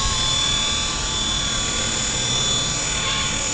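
A Blade 120SR RC helicopter carrying a payload hovers outdoors in a light breeze, its small rotor giving a steady, high-pitched whirring buzz at moderate distance with no talking.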